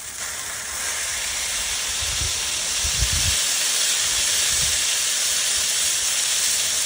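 Smash burgers sear on a Blackstone griddle as a steady, loud, broad hiss, with a few low thumps from the patties being pressed.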